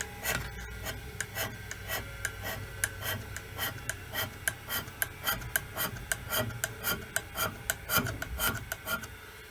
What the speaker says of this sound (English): Let's give that blade a tickle up on the grinder.